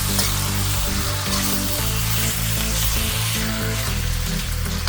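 Chicken fry sizzling steadily in a hot pan while being stirred, a continuous loud frying hiss with scraping of the spoon, close up and alone, set against a rhythmic background beat.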